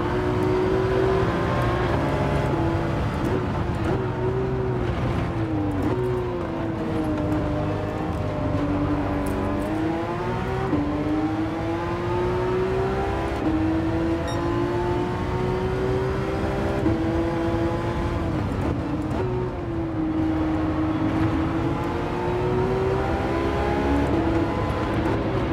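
Race car engines roar without a break in Gran Turismo 7, a Porsche running near a Lamborghini and other cars. The engine pitch climbs and drops through repeated gear changes and revving, loud and close, with no talk over it.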